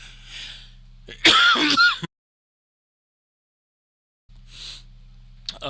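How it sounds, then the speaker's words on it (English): One short burst of throat clearing and coughing near the start, with quiet room noise around it and silence in the middle. "Just a little bit of a cough today."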